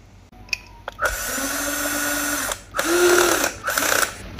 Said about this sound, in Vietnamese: cái máy bắn vít.